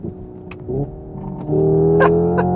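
Hyundai IONIQ 5 N electric car in N custom mode with simulated engine sound and fake gear shifts, a steady synthetic engine drone that steps up in pitch and loudness with each shift, heard close from inside the cabin.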